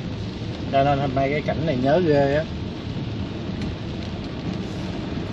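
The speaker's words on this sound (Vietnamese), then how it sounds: "mưa gió tầm tã như thế này nè" Heavy rain hisses steadily during a storm in Saigon, a constant close wash of sound with a person speaking over it early on.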